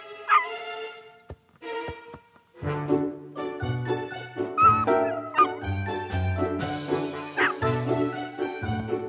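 Several cartoon dog barks and yips ring out, some sharp and close, mixed with whimpering, over a busy background.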